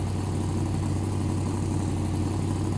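A Rivett car engine idles steadily in My Winter Car, tuned to a race-car tone before rally tires: a constant low rumble with a strong hum, loud and unbroken throughout.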